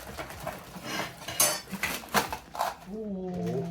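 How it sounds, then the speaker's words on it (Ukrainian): Metal plates from a five-piece chef's set clatter and clink in several sharp, close knocks as they are unpacked and handled, with a voice speaking briefly at the end. "Металеві тарілки. П'ять штук."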